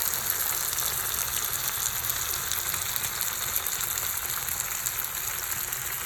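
Sardines fry in a pan with a close, loud, unbroken sizzle that crackles evenly throughout; no one speaks.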